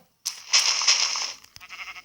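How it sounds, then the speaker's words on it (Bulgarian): Sheep bleating in Minecraft: two wavering game bleats back to back, loud and close, followed by quieter scraping game noise. "Нападай се тази овца, давай."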